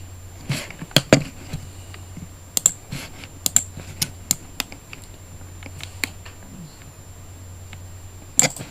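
Typing on a computer keyboard: a scatter of sharp, close key clicks in short irregular bursts, with a few louder taps and quiet pauses between them over a faint steady hum.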